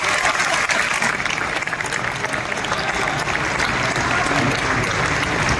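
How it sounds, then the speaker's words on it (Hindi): A seated audience gives sustained applause for a team, many hands clapping in a thick, continuous wash that holds steady from start to finish. "आप लोग उन लोगों के लिए तालियां बजा सकते हैं"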